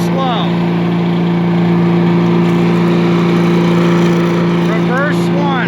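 An MTD Yardboss 800 chipper shredder yard vac with an 8 hp engine runs steadily in first gear, a loud constant droning hum close by, with a voice briefly over it.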